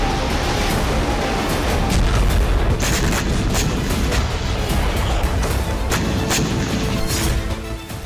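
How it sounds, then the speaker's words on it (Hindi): HIMARS rocket artillery striking Russian forces: continuous loud rumbling barrage with repeated sharp booms and blasts layered over dense low roar, no voices. "सटीक जानकारी के बाद हाइमार्स से रूसी सेना पर हमला किया जा रहा है"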